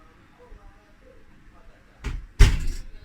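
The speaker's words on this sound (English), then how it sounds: "we're going to open the door of the oven" Kitchen oven door opening during banana cupcake baking, heard as a soft clunk followed by a sharper, louder knock and a brief rattle, close by in a quiet room with no talk.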